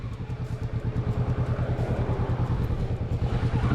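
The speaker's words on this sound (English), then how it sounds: "This kid definitely enjoyed revving this bike." A motorcycle engine revved hard and held at high revs, a steady pulsing drone with rapid firing rhythm, close and loud throughout.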